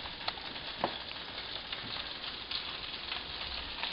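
Breaded chicken cutlets fry in butter over a regular flame, a soft continuous sizzle dotted with small pops and crackles, close and fairly quiet, with no voices.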